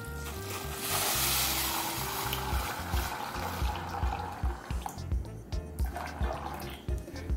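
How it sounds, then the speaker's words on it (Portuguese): Water pouring into a cooking pot over washed green beans, a steady broad rush that starts strong near the beginning, then breaks into splashy gurgles and uneven pours toward the end, heard alone and close. "A gente vai cobrir isso aqui com água"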